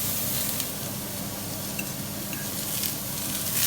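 Vegetables sizzle in the pan used to cook steak, a steady dense hiss of frying with faint stirring touches, close and unbroken, with no voices.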